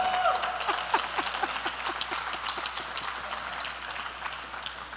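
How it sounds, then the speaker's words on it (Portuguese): Church congregation applauding together during a sermon, a steady wash of many hands clapping in a large room, moderately loud and continuous throughout. "aplaude a palavra de Deus em nome de Jesus"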